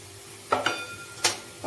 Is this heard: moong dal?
yes